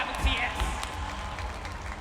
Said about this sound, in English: a round of applause for these two incredible teams